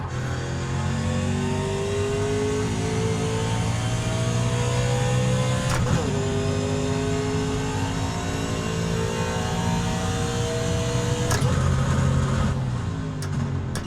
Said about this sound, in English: let's slow it down and run through all the gears again.